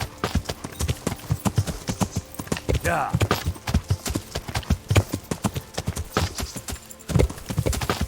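Horse hooves clip-clop in steady, rapid rhythm from a ridden horse in the medieval video game Kingdom Come: Deliverance, loud and continuous with a brief snort or whinny midway.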